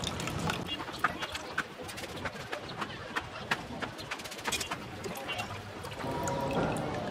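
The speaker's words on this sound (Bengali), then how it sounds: "একটু চেপে চেপে যদ্দূর পারি পানি ফেলে দেবো এর থেকে" Water squeezed by hand out of freshly made, still-warm chhana for doi mishti, dribbling and splashing in uneven spurts with scattered sharp drips, close and moderately loud, with faint background noise throughout.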